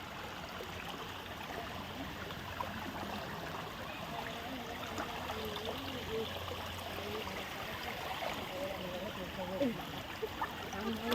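Cold water flows along a stream in Kallar forest park, a steady broadband rush at moderate distance running throughout, with people talking faintly over it.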